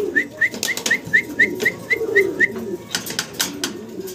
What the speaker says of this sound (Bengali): একদম নতুন ইয়াং কবুতর।